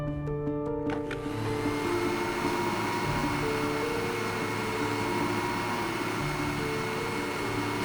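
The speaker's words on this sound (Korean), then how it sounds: "할머니는 거실에서 진공 청소기를 돌리는데요" A vacuum cleaner runs steadily in a living room, a continuous close, loud motor whine and airflow hum that begins with a few clicks and holds on without a break.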